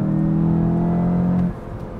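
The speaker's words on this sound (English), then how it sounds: "so let's go full engine sound right now" A 2022 Volkswagen Jetta GLI in Sport mode holds a loud, steady engine drone for about a second and a half, then drops abruptly to a lower idle, heard alone with no talking.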